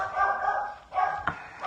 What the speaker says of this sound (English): the dog is barking downstairs